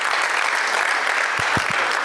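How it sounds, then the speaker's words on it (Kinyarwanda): Steady, dense applause from an audience at a spoken address, filling the whole moment evenly, with a few low thumps near the end and no voices over it. "Muri rukubitira amashyi."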